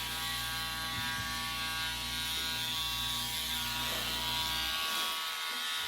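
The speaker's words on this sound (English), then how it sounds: "that's the other end of the Dremel. That's not even the sandpaper. It's just the vibration." Dremel rotary tool buzzing steadily against a dog's nails, a continuous close motorized whine with mechanical rattling that cuts off near the end, leaving quiet.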